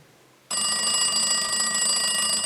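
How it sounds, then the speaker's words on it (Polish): A telephone starts ringing abruptly after a brief quiet moment, a loud, steady electronic bell tone that continues unbroken to the end. "proszę bardzo, telefon od widza"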